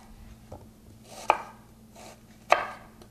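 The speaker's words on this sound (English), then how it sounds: "let's chop the vegetables for now" A knife chops vegetables for a Bolognese sauce, giving three sparse cuts: a soft first tap followed by two sharp, crisp chops about a second apart, with no talking.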